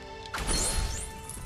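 An object smashes in a video game, a single loud crash that bursts in suddenly and trails off over game background sound.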